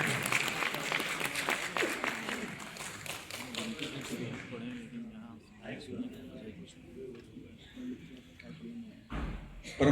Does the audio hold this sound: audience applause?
yes